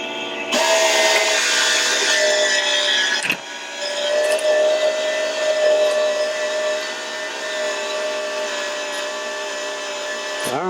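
Trigger-driven wire spooling tool rolling wire into a tight two-inch coil, giving a steady, fairly loud motorized whir that runs continuously for about ten seconds with a brief dip partway through.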